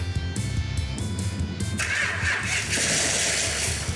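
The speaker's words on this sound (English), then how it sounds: "Let's start by just hitting the starter button and seeing what explodes." A car engine cranks with rapid rhythmic starter pulses, then catches and settles into a loud, rough, close running roar with some revving.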